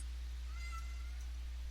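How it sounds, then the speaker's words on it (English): A cat lets out a drawn-out, wavering scream-like meow, faint and somewhat distant, over a steady low hum. "I'm listening to my cat scream"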